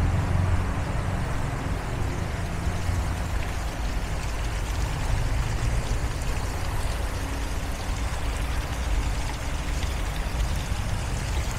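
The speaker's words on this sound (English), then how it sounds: "We're going to pause on this little waterfall for just slightly too long for comfort" A small waterfall splashes steadily in a street in Funchal, Portugal, a continuous broadband rush of falling water with a faint hint of distant traffic, unbroken and fairly close throughout.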